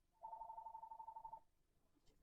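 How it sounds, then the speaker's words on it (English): A telephone rings once, a single electronic trilling burst of a bit over a second, fairly close, followed by quiet. "That was the phone. I just got a phone call there"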